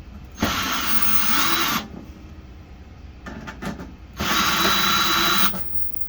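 Power drill backing out Phillips head screws from a toilet's push-button panel: two loud, steady whirring bursts of about a second and a half each, separated by a pause with small clicks and handling noises.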